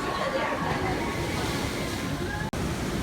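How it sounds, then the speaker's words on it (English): Ocean surf rolls steadily at Ponce De Leon Inlet Lighthouse, a continuous broadband wash of waves heard from an elevated outdoor viewpoint, with a brief dropout near the end. "listen to the surf"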